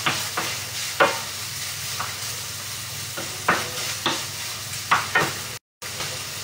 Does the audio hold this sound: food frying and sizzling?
yes